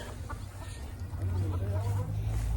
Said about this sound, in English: Here's another chicken, probably laying eggs around.